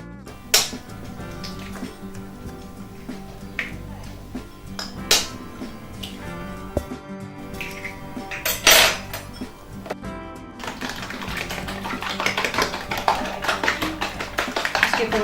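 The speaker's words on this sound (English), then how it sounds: "But we're going to beat them in a bowl first." Eggs are beaten in a bowl while a home cook prepares an almond and cherry loaf cake. Scattered taps and clinks against the bowl come first, then a denser, continuous rapid whisking that builds toward the end.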